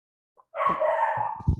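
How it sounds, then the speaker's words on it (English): A dog gives one drawn-out bark or howl-like yelp, loud and close, followed by a couple of short muffled knocks, with quiet before it. "dog barking"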